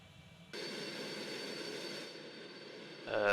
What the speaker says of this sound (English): Will the noise from one engine do?